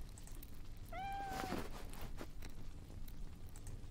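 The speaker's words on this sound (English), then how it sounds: "That is a cute kitty." A cat gives a single clear meow in the hidden-object adventure game Dark Romance: Sleepy Hollow. It sounds over a soft, steady rain-like background.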